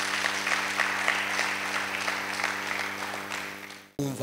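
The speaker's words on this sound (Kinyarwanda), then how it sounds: "Reka dukomere Yesu amashyi menshi." A church congregation at a Nazarene prayer gathering claps loudly and continuously for about four seconds, then the applause cuts off abruptly.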